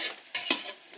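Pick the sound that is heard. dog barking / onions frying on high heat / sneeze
onions frying on high heat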